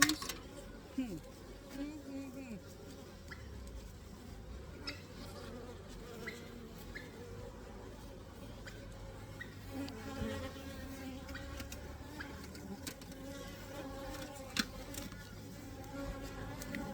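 Drone bees buzzing inside an opened hive while it is inspected, a continuous close, droning hum with wavering pitch and occasional louder passes, and a voice talking quietly underneath.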